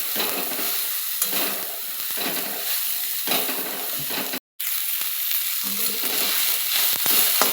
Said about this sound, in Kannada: ಇಲ್ಲಿ ನೋಡ್ರಿ ಪಲ್ಯ ಈ ರೀತಿ ಫ್ರೈ ಆಗ್ಯದ